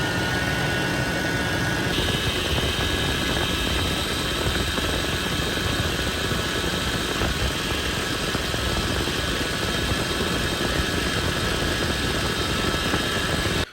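Toyota FJ80 engine running at idle with a power steering whine, a constant close drone with a steady high tone riding over it.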